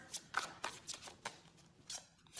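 Tarot cards are shuffled by hand in a quick run of crisp, papery riffles and snaps, close and fairly soft, with no talking.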